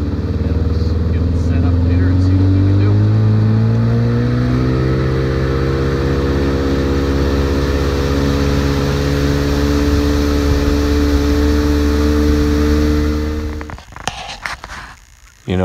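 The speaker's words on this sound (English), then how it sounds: "run about a half mile here to our spot." A boat motor drones steadily and loudly across a small lake during October duck and goose hunting, holding an even pitch that rises slightly before cutting off near the end, with no voices over it.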